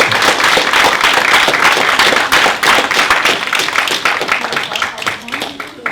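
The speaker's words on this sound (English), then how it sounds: "if you could all just give a nice round of applause" An audience at a business management event gives a round of applause, dense sustained clapping from many hands lasting several seconds before tapering slightly.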